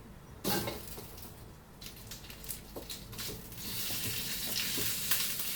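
Sliced skinless pork belly sizzles in hot rendered pork fat in a wok, a close, bright crackling hiss that builds steadily louder, with occasional stirring scrapes and pops.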